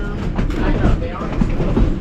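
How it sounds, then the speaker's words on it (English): Durango & Silverton train rolling along in the open before the mountain climb, a steady loud low rumble with rhythmic clatter and faint squeaks throughout. "So far, this is our train ride."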